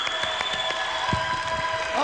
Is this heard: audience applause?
yes